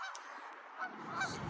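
Ducks honk and quack in a loose group, several calls overlapping at moderate distance against a hissy outdoor background.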